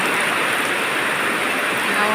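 Heavy rain pours down in a dense, continuous, loud hiss that fills the whole moment without pause.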